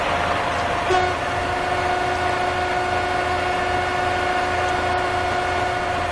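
A train horn in Train Simulator 2016 on the Riviera Line sounds in one sustained, steady blast at a crossing over a constant engine rumble, loud and close, with no talking.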